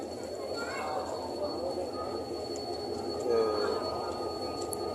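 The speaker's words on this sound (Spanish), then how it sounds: "Estación de Luján de trenes" A train at Luján station on the Sarmiento railway, heard as a steady rolling rumble with faint high squeals from the wheels and a tonal whine, while people talk nearby.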